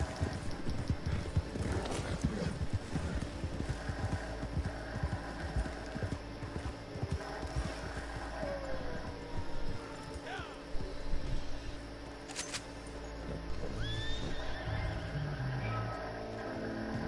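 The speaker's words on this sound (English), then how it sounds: "Get on his horse." In Red Dead Redemption 2 Online, a horse's hooves clip-clop in a steady gallop, with whinnies rising above, while players talk over it throughout.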